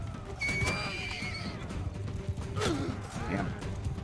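Horse in the Mount & Blade II Bannerlord video game, heard during a melee tournament, giving a loud whinnying neigh and a second, fainter cry amid creaking, clattering battle noise; no speech.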